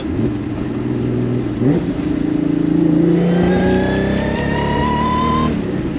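A supercharged 3800 V6 in a five-speed Pontiac Fiero, suffering spark blowout, pulls hard up close, its engine note climbing steadily in pitch with a brief wavering stumble under load and no talking.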